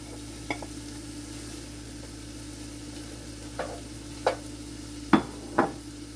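Chopped vegetables for ragu bolognese sweating in a pan, giving a soft, steady sizzle over a low hum, with a few sharp clinks and scrapes of stirring toward the end, close and quiet.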